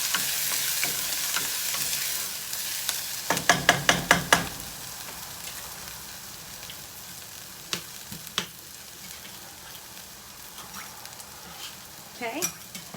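Steady sizzling of onions frying in a pan, with a quick burst of sharp clattering stirs partway through and a few scattered scrapes later.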